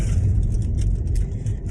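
Steady low road rumble and engine hum of a moving car heard from inside the cabin, continuous and fairly close with no talking over it.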